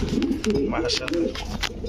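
A male pigeon coos repeatedly in deep, throaty, somewhat rough notes, close by, while people talk over it at a pigeon sale.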